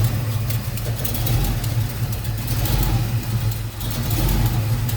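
A 1966 Ford F100 pickup's 351 V8 with a four-barrel carb, headers and a mild cam idles close by, a deep, loping rumble with uneven pulses and a slight blip in revs.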